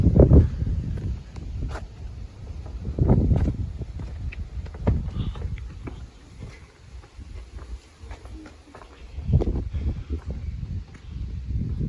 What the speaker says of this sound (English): The wind's pretty tough here